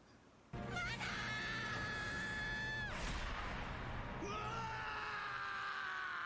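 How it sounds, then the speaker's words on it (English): An anime character lets out a long, loud, strained dying scream that wavers and breaks, holds for several seconds, then trails off into a rough, groaning wail over a dramatic backdrop. "did not have to be so extra with his dying scream"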